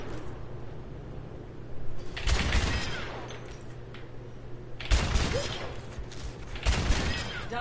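Overwatch video game gunfire: bursts of rapid shots erupt loudly in two main clusters over steady background game noise, with brief quieter gaps between volleys.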